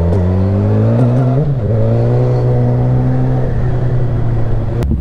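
A Yamaha Tracer 900 GT motorcycle engine runs loud and close, its tone rising and falling through a few revs before settling, with a sharp click near the end.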